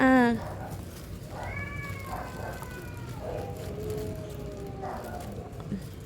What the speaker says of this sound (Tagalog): Ay, grabe, yung pusa na yan